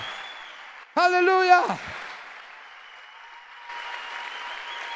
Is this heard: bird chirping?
no